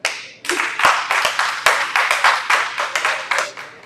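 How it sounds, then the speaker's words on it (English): Audience clapping at a live city tour show, a steady run of sharp, evenly paced claps, fairly close and loud with no talk over it. "So, clap it up."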